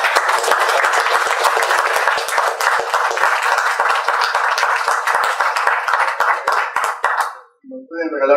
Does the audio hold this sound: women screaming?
no